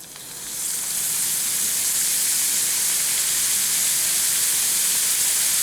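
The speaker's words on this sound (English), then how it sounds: "The oil is ready for frying." Steady, loud sizzling hiss of hot oil in a frying pan for potato chips, bright and continuous, rising in the first second and then holding evenly.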